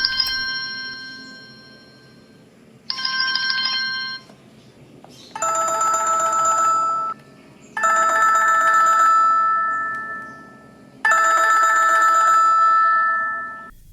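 Ringtone of a DT36 smartwatch set against a phone ringtone: several bursts of bright electronic ringing in turn, each lasting one to three seconds with short gaps, the later bursts fuller and louder.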